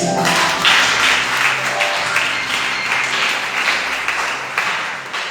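A church congregation at a thanksgiving service breaks into loud, dense applause, many hands clapping together in a sustained burst that slowly eases off.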